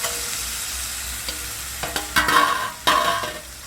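Seeds drop into hot oil along with drumstick pods for a Bhogi mixed vegetable dish, a quiet pan that bursts into loud crackling sizzle in two sharp surges, the second ending with a clatter.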